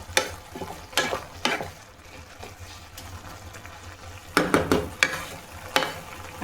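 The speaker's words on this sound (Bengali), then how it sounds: "দুধে দেখুন গাজরটা কীরকম ফুটছে" Grated carrots simmer in milk for carrot halwa, a soft bubbling hiss under periodic spoon scrapes and stirring clatter, close by with no talking.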